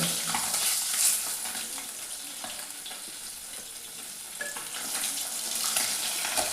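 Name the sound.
sea fish frying in oil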